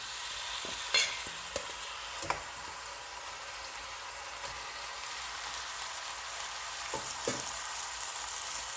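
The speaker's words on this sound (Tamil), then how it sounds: "சிக்கனை போட்டு நல்லா மிக்ஸ் பண்ணி வதங்க விடணும்." Chicken pieces stirred and sautéed in a pan for chicken kurma, giving a steady close sizzle with scattered scraping knocks of the spoon against the pan.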